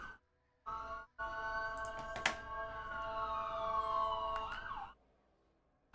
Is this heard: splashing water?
no